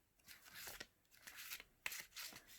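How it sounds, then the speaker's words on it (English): A thick, oversized tarot deck shuffled overhand, giving soft papery riffling bursts in an irregular rhythm with brief pauses between them, close and quiet, with no voices. "When it comes to shuffling, it's definitely overhand"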